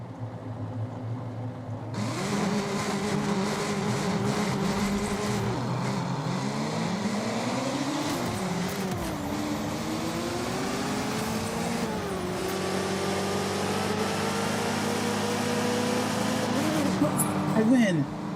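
Race cars in the Auto Legends driving game, a loud sustained engine drone with rising and falling pitch sweeps as gears shift and revs climb, steady throughout after a quieter start.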